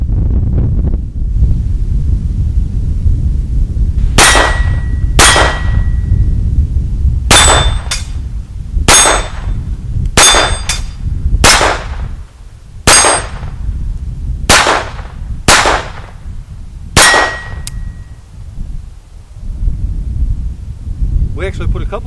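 A Phoenix Arms HP22 pistol fires at steel zombie targets outdoors, sounding as about eleven sharp cracks, most with a ringing metallic clang on impact, spaced irregularly over a steady wind-like rumble.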